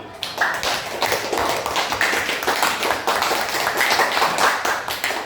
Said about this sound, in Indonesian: Oke, kasih aplaus dulu ya, kasih tepuk tangan dulu.